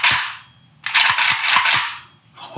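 An AK47 rifle's mechanism worked by hand, giving a string of sharp metallic clacks and snaps, several crisp clicks in quick succession, close and alone.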